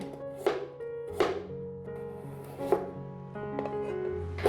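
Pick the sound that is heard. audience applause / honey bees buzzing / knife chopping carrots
knife chopping carrots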